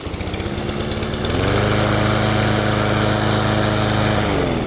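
DeWALT 173cc 21-inch self-propelled petrol lawn mower catching after a pull start. The engine rises from a sputter to a loud, steady, close idle and holds there, then dips slightly near the end, with no talking.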